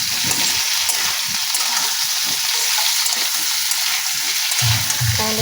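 Tomatoes tipped into a pan of frying potatoes, a loud close hiss of sizzling oil with scraping stirs and clatters, continuous throughout and alone without talk.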